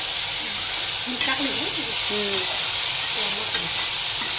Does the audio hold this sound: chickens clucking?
no